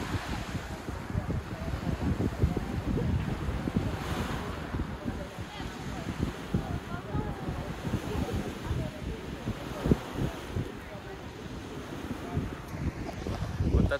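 Steady light sea breeze rushes across the microphone with low rumbling Black Sea surf beneath it at Sochi, a continuous outdoor seaside wash with no clear individual wave breaks.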